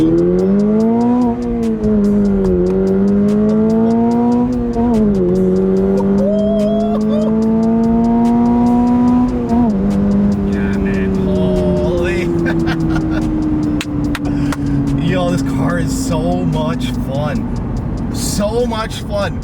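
A 2022 Subaru BRZ engine revs hard in first gear with traction mode on, rising in pitch as it accelerates, with a brief dip at a gear change and loud exhaust roar close by.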